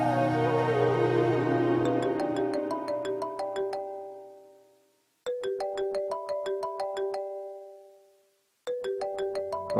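An incoming call rings on a phone: a melodic electronic ringtone of bright repeating tones plays loud and alone, fading out, then restarting twice in clear bursts.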